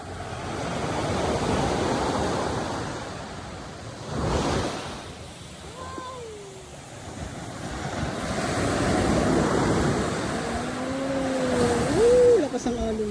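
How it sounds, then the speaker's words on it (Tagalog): Strong ocean waves at Anawangin Cove in Zambales, surf rolling and crashing in broad swells with heavy wind buffeting the microphone, while voices speak faintly over it. "Lakas ang alon."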